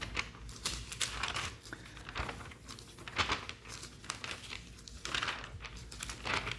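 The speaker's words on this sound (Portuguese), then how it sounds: "Tem que folhear com cuidado para não rasgar as páginas" Thin Bible pages turned carefully through the book of Jonah, giving a steady run of soft crinkles and papery rustles at close range, with no talking.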